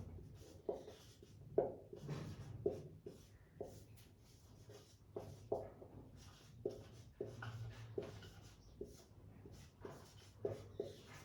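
A hand writes a question on paper or a board with a pen or marker, giving a steady run of soft scratching strokes with brief pauses, heard close up with no talk over it.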